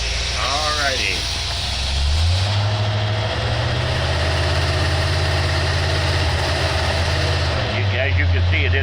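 Boat engine fitted with an Edelbrock carburetor idling in gear on a dyno in a hot shop, a steady low rumble that holds loud and even throughout, with a brief shift in pitch near the start and end.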